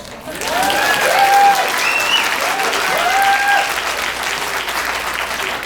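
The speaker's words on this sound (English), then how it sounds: "So just go ahead and clap for Bree." A school drama and chorus audience claps steadily for several seconds, the applause loud and sustained, with a few whistles or cheers rising over it before it tapers slightly.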